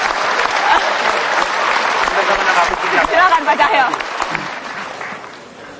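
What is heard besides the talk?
audience applause in a TV studio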